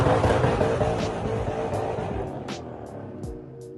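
Imola Red BMW E39 M5 driven hard, a steady, fairly loud engine note with harmonic bands that slowly eases off, plus a few short sharp bursts near the end.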